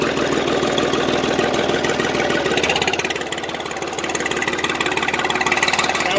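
A 420 vehicle's engine runs steadily while coasting downhill in a low granny gear, a close, continuous mid-pitched drone with a faint knocking pulse that dips briefly midway and holds without talk.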